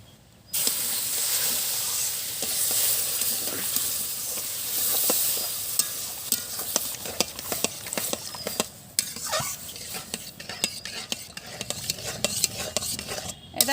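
Milk poured into semolina frying in a pan sets off a hissing sizzle that settles into steady, close stirring and scraping, with bursts of steam throughout.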